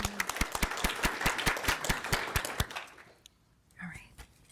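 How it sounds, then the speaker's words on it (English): A small group claps for the interim principal at a school governing board meeting, a few distinct hand claps in an uneven rhythm that thin out and stop, with a brief voice stirring afterward. "we'd love to give you a round of applause."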